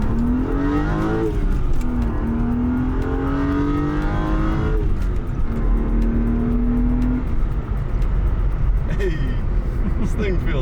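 A BMW E36 engine revs up through the gears with rising whines and shift drops, loud and close from inside the car, with people talking over it.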